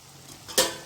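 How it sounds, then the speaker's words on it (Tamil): A brief burst of sizzling bubbles from masala sauce boiling in a pan, flaring up suddenly and then trailing off quietly. "இது ஒரு ரெண்டு நிமிஷம் கொதிக்கட்டும்"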